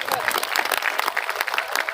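An audience at a poetry recital in a museum festival setting claps in a brief, dense burst of applause that holds steady throughout.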